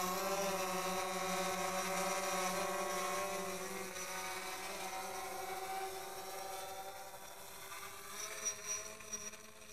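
A DJI Phantom 4 drone flies steadily nearby, its rotors giving a continuous buzzing whine with a layered hum that holds level and shifts slightly in pitch as it manoeuvres.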